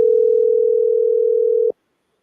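A single steady telephone line tone sounds loud and continuous for nearly two seconds, then cuts off abruptly into silence.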